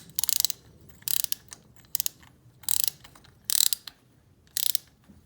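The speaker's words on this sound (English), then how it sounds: "Get in with your spark plug wrench" A spark plug wrench ratchets a Harley spark plug loose, six quick bursts of sharp clicking close up, each a rapid run of pawl clicks separated by short pauses.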